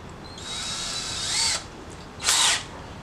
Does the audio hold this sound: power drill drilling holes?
yes